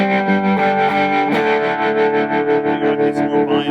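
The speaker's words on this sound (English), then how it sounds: "We're plugged into this Watkins Dominator over here, yeah, with the split front and the cool vibrato." A 1950s Kay Barney Kessel electric guitar played through a Watkins Dominator amp with split front, loud chords pulsing with strong amp vibrato and some distortion, continuous and alone.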